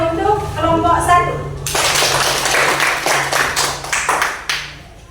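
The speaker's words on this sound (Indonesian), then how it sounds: "Tepuk tangan untuk kelompok 1." A classroom group breaks into a burst of applause for group 1, many hands clapping close by at a quick uneven pace. Talk comes before the applause starts.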